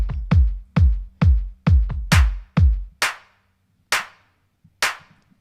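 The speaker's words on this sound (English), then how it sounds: "And that's the clap." A sampled clap drum from Maschine plays through Logic Pro X, sounding as a quick regular run of sharp, dry claps, then a few louder, more spaced hits with silence between.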